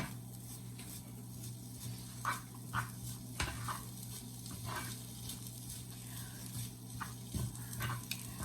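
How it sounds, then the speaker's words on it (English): A low, steady sizzle of corned beef hash frying in a pan, with occasional scrapes and clinks of a utensil stirring through it. "You can start to hear it sizzle as it's starting to heat up now."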